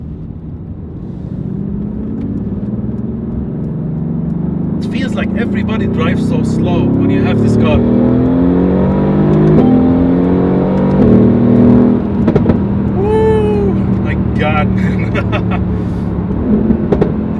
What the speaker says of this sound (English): Okay, now we're gonna do some good acceleration.